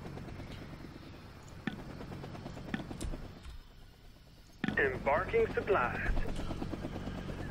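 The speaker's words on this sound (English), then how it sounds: "I'll send out a fresh helicopter with that." Helicopter flying in the Vietnam 65 war video game, a steady mechanical drone kept low in the mix under continuous talk, with a louder burst of game sounds near the end.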